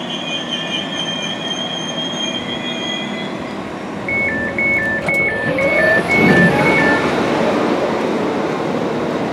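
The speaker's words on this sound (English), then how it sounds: "My train should be arriving now to pick me up to take me there." A train pulls into a Calder Valley line station at Hebden Bridge, with a steady rumble, squealing wheels and a two-tone warning beep, close and loud with no talk.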